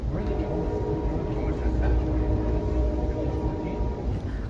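Amtrak Empire Builder passenger train rolling on CPKC-owned track beside the Mississippi River, a steady low rumble and rail drone heard from inside a coach, continuous and fairly close, with no talk.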